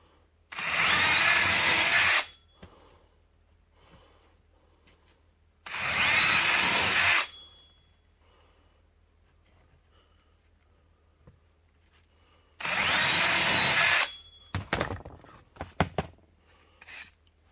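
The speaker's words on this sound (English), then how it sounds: "get you a 5/16 inch drill bit and go ahead and finish drilling these holes" A power drill with a 5/16 inch bit bores holes straight through wood for a sandpaper caddy. Three loud, steady whining bursts of a couple of seconds each are separated by quiet gaps, and a few short rattles follow.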